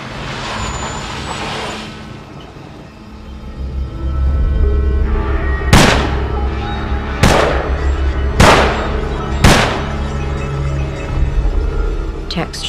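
Four loud, sharp gunshots ring out about a second apart over a rumbling vehicle-like background, with a voice heard earlier.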